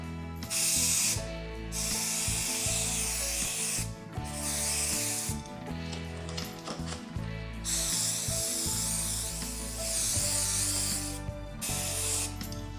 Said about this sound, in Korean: 먼지를 털어낸 다음에 강력 접착제로 한번 살짝 뿌려 주겠습니다